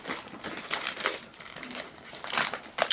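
A large snack packet is crinkled and crumpled while being opened, with irregular bursts of crackling plastic, close and fairly loud, across the whole stretch.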